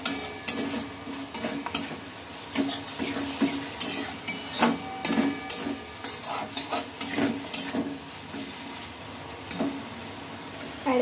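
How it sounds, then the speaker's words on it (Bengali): Fried pointed gourd pieces are tipped into a pan of mung dal and stirred, bringing repeated clanks and scrapes of a spatula against the metal pan over a low frying sizzle, uneven bursts close by. "আর এর উপর দিয়ে এখন ভেজে রাখা পটলগুলো দিয়ে নেব।"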